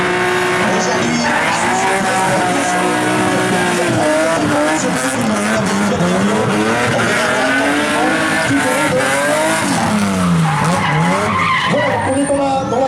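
Rally cars drift at a Wallonia rally drift show to warm up their tyres, with loud continuous engine revving and tyre squeal rising and falling, while a commentator speaks over the noise.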